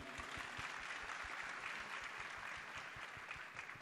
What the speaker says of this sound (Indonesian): Tepuk tangan lu untuk Pak Gita.